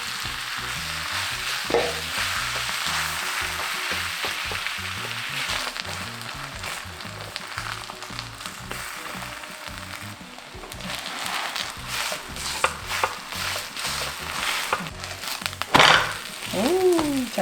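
Vegetable pancake fries in a pan with a continuous crackling sizzle and occasional scraping of a utensil, close by, with brief bits of voice in the background.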